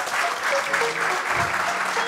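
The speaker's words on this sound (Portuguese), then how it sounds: "Por isso eu peço uma grande salva de palmas para Faisal António" Applause from an audience at a gala ceremony, a steady dense wash of many hands clapping at once, with voices and cheers mixed in underneath.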